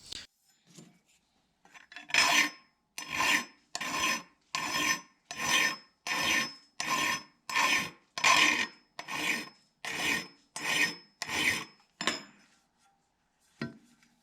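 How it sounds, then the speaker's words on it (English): Metal file rasping a choil into a Wusthof Classic 8-inch chef's knife, about a dozen steady, evenly spaced strokes, close and loud with no talking. "I would suggest using a file to grind one in on your knife"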